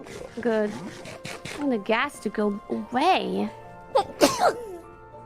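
One sharp sneeze bursts out near the end of lively, overlapping chatter between several voices, close and clear amid the ongoing conversation.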